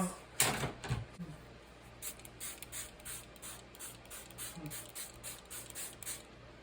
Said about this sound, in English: spray some Color Bloom from Prima, some mist, some Color Bloom spray mist on here inside of the box